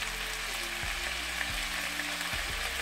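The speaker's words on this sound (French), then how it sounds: "il faut que la viande soit un peu comme frite" Chicken meat frying in oil in a pan for a rice casserole, a steady close sizzle with a low tonal hum running underneath.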